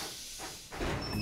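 Cartoon steam locomotive Whiff pulls away, releasing a brief, breathy hiss of steam that swells into a louder rushing gust with a faint whistle-like tone on top.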